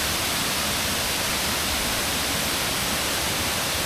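Steady, dense rush of falling water at a waterfall in Kamphaeng Phet, Thailand, a broadband roar that holds level and close for the whole span with no voices.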